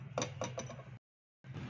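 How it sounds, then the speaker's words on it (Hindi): A sewing machine stitches a down collar with a few slow, rhythmic mechanical clicks close by, then stops briefly before the whir resumes. "इसे सिलाई लगाएंगे, ऐसे सिलाई लगाएंगे, और सिलाई हमारी यहाँ लगेगी।"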